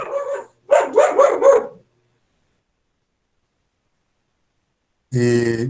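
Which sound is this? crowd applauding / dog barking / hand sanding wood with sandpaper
dog barking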